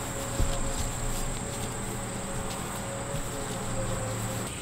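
Insects drone steadily around a cattle pen in late-summer heat as a cow nears calving, a faint continuous buzz and high whine with no voices.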